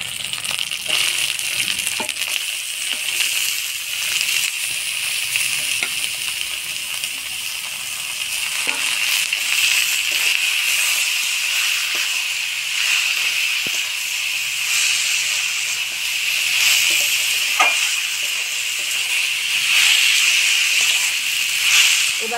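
Ash gourd with fish head fries in a pan over a village cooking fire, giving a steady close hiss and sizzle throughout with a few faint clinks.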